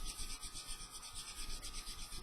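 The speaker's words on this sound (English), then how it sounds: "I'm rolling the sanding stick as I go on the end of this fuel tank" Steady rasping of a sanding stick rubbing back and forth against the end of a fuel tank, removing a seam, close and continuous, with faint rhythmic swells.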